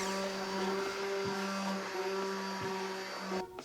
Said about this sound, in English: we're gonna go ahead and use the hand blender